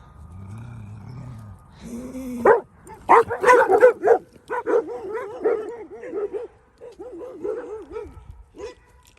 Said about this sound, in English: Even Pumpkin's barking.